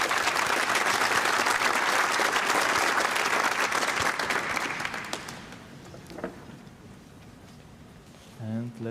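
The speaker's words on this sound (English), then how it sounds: "Then now it's time for a big applause for Pedro and Sebastian" Conference audience applauding speakers at PromCon EU 2024, a loud, full round of clapping for about five seconds that thins out and dies away, followed by a voice starting to talk.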